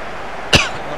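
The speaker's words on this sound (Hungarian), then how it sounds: "Még sajnos mindig köhögök." A single short, sharp cough from a man playing FIFA 18, close to the mic, standing out briefly over a steady low background.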